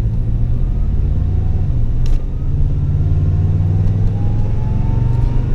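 Supercharged, tuned Toyota Tundra Platinum pickup accelerating steadily up to about 4,000 RPM, a loud continuous engine drone and rumble with rising pitch, heard from inside the cab with no talking.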